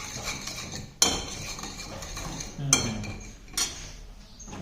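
Food in a pot with the fire turned off is mixed with a utensil, giving a few sharp metallic clinks and scrapes against the pot, close by, with quieter stirring between the hits.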